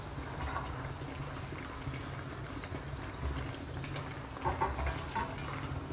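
Three cup chicken sauce with chili and spring onion bubbling in a covered pot, a soft, steady simmering hiss and gentle popping, faint and close with no talk.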